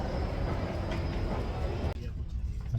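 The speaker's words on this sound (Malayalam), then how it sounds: "ട്രെയിൻ എടുത്തു" A passenger train is heard moving, its low rumble and rattle running steadily under faint voices, then thinning out near the end.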